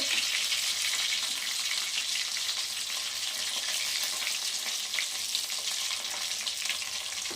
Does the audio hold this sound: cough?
no